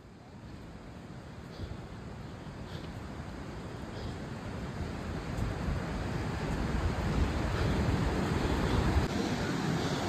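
Pittala Burra waterfall gives a broad, steady rushing roar that swells gradually louder, with wind buffeting the microphone throughout.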